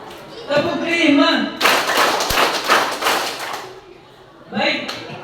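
A crowd of junior high scout trainees claps a left-right five-beat pattern during school orientation, a loud burst of massed hand claps following a spoken cue, with talking before and after.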